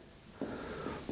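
A pen or pencil writes out a hand solution to a Wheatstone bridge current electricity problem, giving a few short, close scratchy strokes with no talking.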